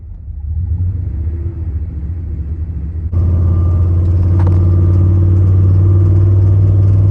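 A 1997 Ram 1500 pickup engine with engine trouble idles with a steady low rumble that suddenly grows louder partway through, a faint metallic pinging riding over the drone.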